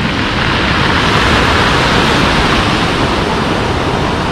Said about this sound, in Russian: Такие у нас волны сегодня.